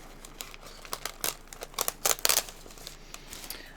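Crinkly map-design wrapping paper rustles and crackles as it is unfolded close by, in quiet scattered crinkles that build to a louder burst of crumpling before easing off.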